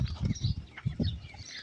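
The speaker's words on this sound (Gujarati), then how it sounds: "આપણે અત્યારે કબૂતરને ઉડાડવી." Domestic pigeons cooing close by, a series of low throaty pulses in an uneven rhythm with faint chirps and rustling above, no talk.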